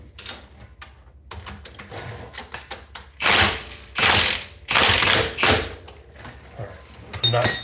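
Ratchet tightening the strut-to-spindle bolts on a Volvo V70's front suspension knuckle, a few bursts of quick clicking near the microphone with quieter workshop handling noises between them.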